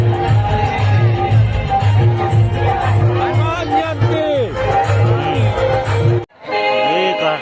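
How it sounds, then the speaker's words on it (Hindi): Large crowd at a village fair during a Hari Mahayagya mela, a loud dense hubbub of many voices with shouts and a public-address tone, close and continuous, briefly cutting out near the end. "तगड़ा भीड़ दिखा तो संगवारी"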